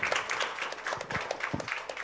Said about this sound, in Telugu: ఒకసారి గట్టిగా క్లాప్ చేద్దాం సార్